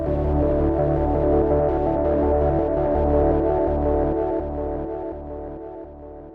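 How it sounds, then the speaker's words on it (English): Sequenced ambient pad synthesizer patch built in Phase Plant from an analog oscillator, playing sustained layered tones with a steady pulsing rhythm, loud and continuous alone, gently fading toward the end. "how to create a sequenced ambient pad in phase plant"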